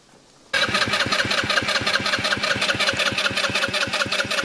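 A scooter engine, just fixed at the roadside, bursts into life after half a second of quiet, then settles into a loud, close, steady pulsing idle.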